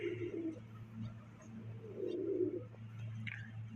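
Pigeons coo in low, rolling murmurs, several overlapping calls close by, with a steady low hum underneath.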